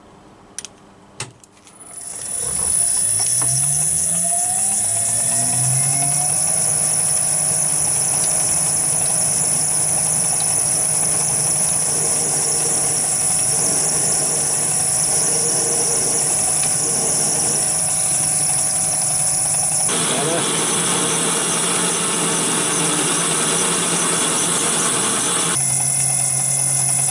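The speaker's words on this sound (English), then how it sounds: "And next is to bore out." A lathe boring out a pulley for a Reliant 850 trike, the motor winding up after a few clicks into a loud steady hum with a high squealing cutting tone that shifts partway through.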